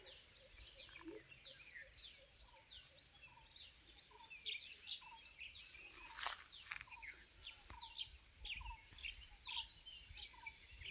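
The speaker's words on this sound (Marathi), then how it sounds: "पक्ष्यांचा किलबिल मस्त आवाज." Small birds chirp and twitter over village fields where cattle graze, many quick high calls overlapping in a continuous, fairly distant chorus with faint insect hum beneath.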